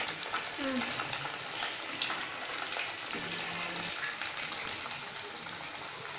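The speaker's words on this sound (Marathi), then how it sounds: "हे बघा तेल गरम झालेलं आहे, आपण आता तळून घेऊ" Dal batti dough balls deep-fry in hot oil, giving a steady, close, hissing sizzle that carries unbroken throughout, with faint bubbling and no speech.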